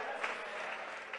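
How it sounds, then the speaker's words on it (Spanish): A church congregation during a Spanish-language service claps in a brief, even burst of applause, a moderately loud continuous patter. "ese aplauso para el Rey de Gloria"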